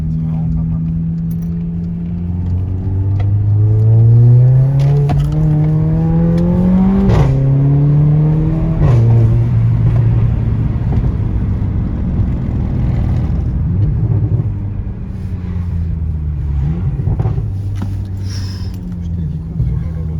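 Mercedes CLA45 AMG four-cylinder engine revs loud and close, rising and falling in pitch through repeated throttle blips. It continues steadily throughout, with a sharp gear change partway through.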